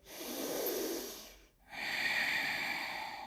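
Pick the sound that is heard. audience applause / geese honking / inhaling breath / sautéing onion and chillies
inhaling breath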